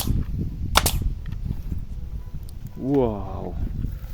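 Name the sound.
toy gun shots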